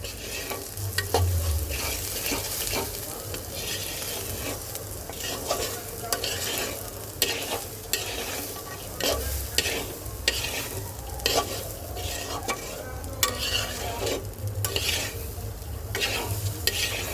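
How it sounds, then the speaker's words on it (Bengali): Spices for khichuri fry lightly in a small amount of oil, a steady close sizzle with frequent scraping stirs of a spoon against the pan throughout. "এটাকে একটু হালকা ভেজে নিই আমি কিন্তু তেলের পরিমাণটা খুব কম দিয়েছি"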